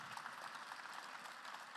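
An audience at a talk for the Arena Robinson event applauds, a dense, even wash of clapping from many hands that holds steady throughout, with no voices over it.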